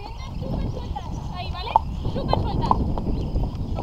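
Horse hooves clip-clop at an uneven pace during a horseback trail ride, the steps soft and partly buried under ongoing talk and the steady outdoor rumble.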